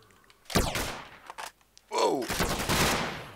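Gunfire crossfire in the Minecraft Flans mod, heard as a burst of sharp game gunshots, then a short pause and another dense, loud volley of rapid fire that carries to the end.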